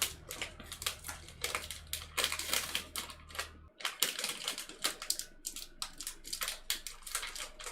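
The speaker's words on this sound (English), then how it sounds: "and you'll hear all the crinkly wrappers" Crinkly chocolate wrappers being torn open close by, a rapid, dense run of crackling rustles that continues without a break over a low hum that cuts out partway through.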